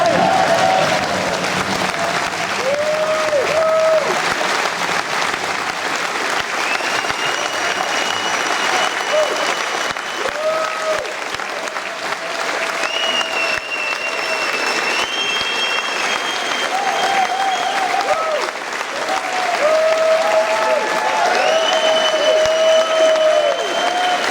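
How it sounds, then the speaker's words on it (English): Sustained crowd applause at a Gaelic football county senior final between Simonstown Gaels and Donaghmore Ashbourne, steady and loud for the full length, with a few raised voices and whistles cutting through the clapping. "every one of us here should rise and in applause pay tribute"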